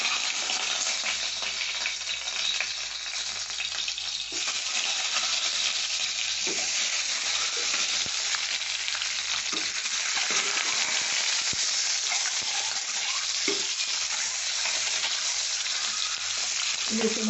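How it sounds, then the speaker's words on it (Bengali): Boiled eggs, slit and salted, frying in hot oil in a pan, giving a continuous close crackling sizzle that holds steady throughout with occasional soft knocks and shifts as they are moved. "এখন তেলটা এসে গেছে, আমি ডিমটা দিয়ে দিচ্ছি।"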